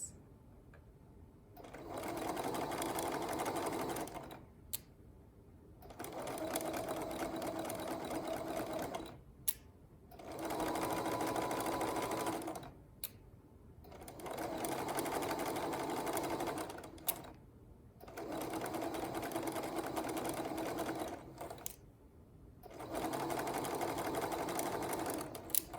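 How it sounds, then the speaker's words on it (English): Sewing machine stitching in the ditch on bias binding, running in six steady whirring bursts with short pauses between, close and clear with no talk. "So now I'm gonna stitch in the ditch. Line up my needle with the previous stitch line, back stitch at both ends."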